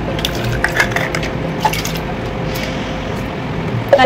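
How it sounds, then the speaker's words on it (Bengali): A bottle being rinsed with water makes squishy, sloshing liquid sounds with small drips and gurgles, steady and close for about four seconds, with no talking. "এটা ফার্স্টে আমি একটু জল দিয়ে ধুয়ে নেব"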